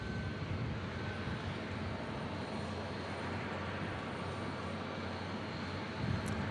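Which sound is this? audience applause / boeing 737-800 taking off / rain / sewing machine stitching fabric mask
boeing 737-800 taking off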